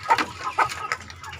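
Chickens and young roosters on a small poultry farm cluck in short bursts of several close calls, with a steady low farmyard hum beneath.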